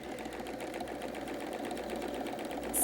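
A sewing machine runs continuously at a rapid, even stitching rhythm while free motion quilting a quilt border, fairly quiet and with no talk over it.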